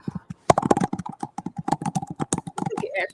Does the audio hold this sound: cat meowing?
no